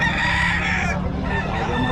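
A rooster crows loudly and close by at a busy chicken market in Bocaue, its drawn-out call filling most of the moment against the clucking and murmur of the surrounding fowl.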